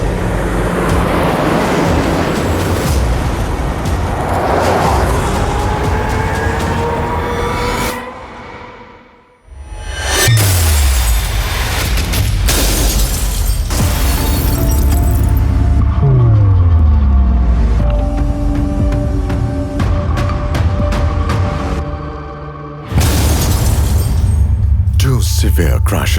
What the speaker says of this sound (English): The same car now faces a second high-severity side impact.